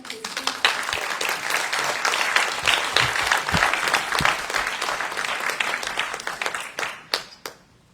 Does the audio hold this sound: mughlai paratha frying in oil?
no